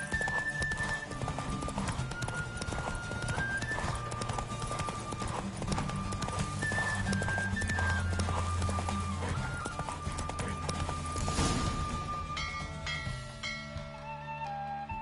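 Horses gallop in a race in The Witcher 3 video game, a continuous rapid clip-clop of hooves with whinnies rising above it, while music plays underneath and the pounding swells and fades across the stretch.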